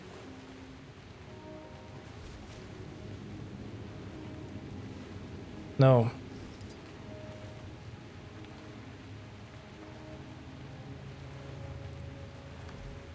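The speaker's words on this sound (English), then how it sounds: "Rain, indeed, rain." Steady, soft hiss of rain falling in the video game Guild Wars 2 continues throughout, with one sharp click partway through and a single brief spoken word.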